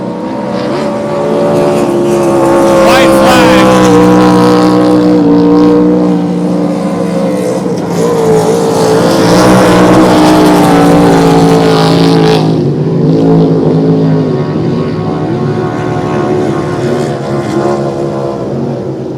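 Loud, continuous roar of a racing powerboat engine with a fault running near at a sprint race, holding a steady droning pitch with slight rises and falls throughout.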